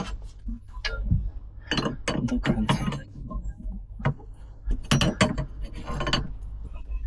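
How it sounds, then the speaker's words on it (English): A 22 mm and a 30 mm wrench tighten a nut on a MerCruiser Bravo 3 power steering cylinder during boat repair: close metallic clicks, clinks and ratcheting scrapes in irregular bursts, fairly quiet. "so we tighten the nut. There's resistance already. We use the 22mm wrench here and tighten"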